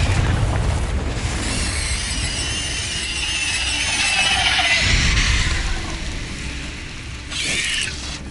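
Confringo fire spell explosions in the Hogwarts Legacy video game: a loud burst and whooshing blast with a crackling, hissing tail, followed by a second burst near the end, against continuous game noise.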